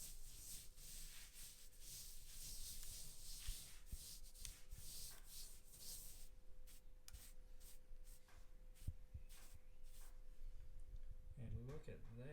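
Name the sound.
sponge lightly rubbing down a pizza oven's decorative coat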